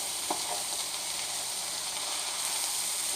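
Vegetables with cilantro frying in a pan, giving a steady, moderately loud hiss and crackle of sizzling oil that carries on without a break.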